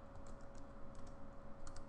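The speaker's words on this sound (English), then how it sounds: "and just type in import" Quiet, steady typing on a computer keyboard, a rapid run of soft key clicks with a faint constant hum beneath, no voices present.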